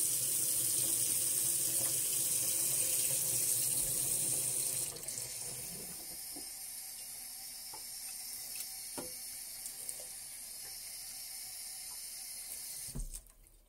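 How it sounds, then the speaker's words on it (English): Hot water runs steadily into a beaker during potassium nitrate recrystallization, a loud hissing pour for about five seconds that then eases into a quieter trickle with small splashes and clinks before stopping abruptly. "I'm gonna just use some hot water."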